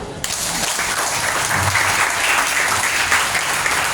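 Students at a school leadership training session break into steady, even applause, a dense continuous clapping that starts abruptly and holds through to the end.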